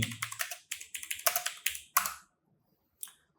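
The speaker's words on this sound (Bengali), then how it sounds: "আবারও ব্রাউজারে গিয়ে আমরা লিখবো হচ্ছে ক্যান ইউ সি মি" Search words typed on a computer keyboard, a quick close burst of about a dozen crisp key clicks over two seconds, then silence and one final keystroke.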